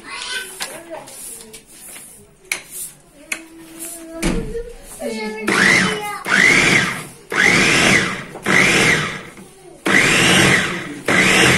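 An electric grinder blending onion runs in loud, repeated bursts of several seconds each, whirring up and cutting off, after a stretch of kitchen handling noises and someone talking.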